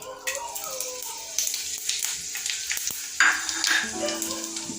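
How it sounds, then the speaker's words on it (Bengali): Whole cumin seeds and dried red chillies hitting hot oil give a close, busy crackling sizzle with spoon clinks, while a steady tonal hum runs beneath and a louder burst of spitting rises near the end. "তেলটা গরম হয়ে গেছে, এর মধ্যে দিব হচ্ছে, এই দেখো, গোটা জিরে শুকনো লঙ্কা ফোড়ন দেবো"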